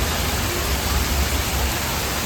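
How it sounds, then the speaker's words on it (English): Steady broadband rush of water tumbling from a small outlet falls near Krang Suri Falls in Meghalaya, a continuous close roar with no voices. "here is another falls which is just falling, some random water"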